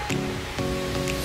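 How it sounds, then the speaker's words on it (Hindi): A 200-foot waterfall in an Indian village roars as a dense, steady rush of water, loud and close, with no talk over it. "वाटरफॉल।"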